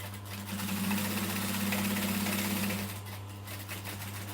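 A sewing machine stitches fabric for a handbag in a steady, close mechanical whir with a rapid rhythmic needle patter, running for a few seconds and then slowing to a quieter hum, no voices.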